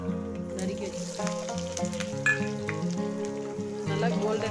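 Sliced onions fry in hot oil in a pan until golden brown for chicken sukka, giving a steady, close sizzle that runs under background music.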